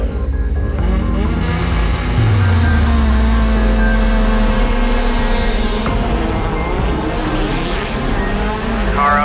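A Subaru rallycross car revs hard at the start line, its engine loud and close with rising and falling pitch, while an announcer talks over it.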